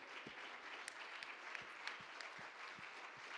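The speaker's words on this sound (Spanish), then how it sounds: "Un aplauso." Steady applause from a small church congregation, with scattered sharper claps standing out, moderately faint and without voices.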